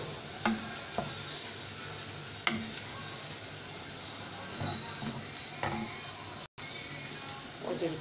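Onion frying in hot oil for an okra tarka: a steady sizzle with occasional stirring scrapes and light utensil clicks against the pan, close up.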